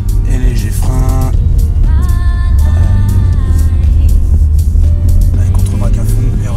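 BMW car engine revving and accelerating as it drifts on an ice track, loud and close with a rising and falling whine that runs throughout under a speaking voice.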